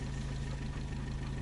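Car engine running steadily while driving, heard from inside the cabin as a continuous low hum with a constant drone and no break.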